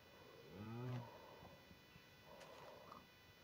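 Cows in a block-building video game give a single low, drawn-out moo near the start, followed by faint game sounds.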